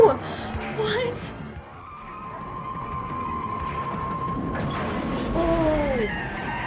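Police cars chasing in The Terminator (1984): tires skid and squeal at length, engines roar, and a long siren-like tone holds, with a voice briefly speaking over the screeching.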